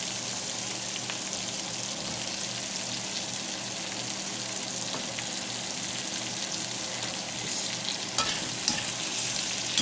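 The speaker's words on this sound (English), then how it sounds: "I'm going to throw my potatoes in here now" Potatoes sautéing with vegetables in a pan for tamarind duck, a steady crackling sizzle throughout with a few sharper stirring knocks toward the end, close and moderately loud, no talking.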